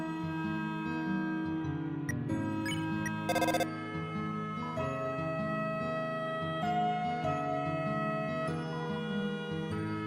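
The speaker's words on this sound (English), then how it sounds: "Phone's ringing, but you can't." Phone ringing in Deltarune, a steady looping electronic ring melody with a sustained tone pattern playing throughout, clear and alone.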